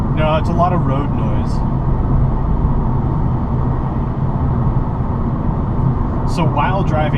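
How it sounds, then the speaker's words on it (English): Steady broadband road noise fills the cabin of a 2016 Mazda 3 four-door hatchback on the move, a constant low rumble and hiss throughout, with brief talk near the start and again near the end. "No, it's a lot of road noise."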